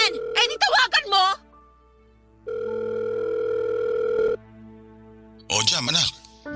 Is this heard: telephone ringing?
yes